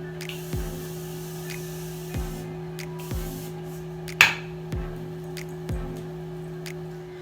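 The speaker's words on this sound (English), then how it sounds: "Spray my face one more time." Makeup setting spray misted onto a face during a makeup session: a short, sharp spritz stands out among a few soft clicks and light taps in an otherwise quiet room.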